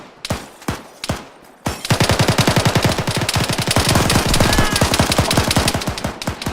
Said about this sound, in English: I just took fire from the south.